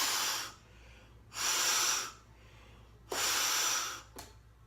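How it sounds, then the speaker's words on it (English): Three long, breathy puffs of air are blown through a water valve inlet, each a soft hiss lasting under a second with quiet pauses between, followed by a brief short puff at the end. "blow in through the inlet and see if there's airflow"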